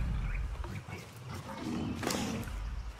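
Baby Giganotosaurus in ARK: Survival Evolved let out rough, growling roars, several overlapping bursts over a few seconds, close and fairly loud with no talk over them.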